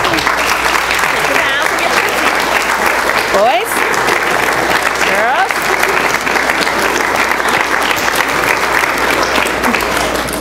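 Parents at a preschool program applaud young performers taking bows, a loud, continuous wash of clapping from a full room, with an adult calling out over it.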